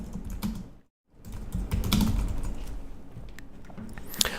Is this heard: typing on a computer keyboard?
yes